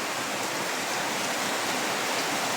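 Heavy rain pours down in a steady, dense broadband hiss that fills the whole stretch with no pauses and no voices.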